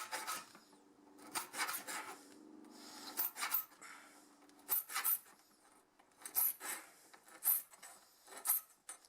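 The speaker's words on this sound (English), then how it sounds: "then I'll give it a couple of to sharpen the blades" A hand file rasps in repeated short strokes to sharpen a blade, an irregular series of scraping bursts with quiet gaps between them, close and fairly soft.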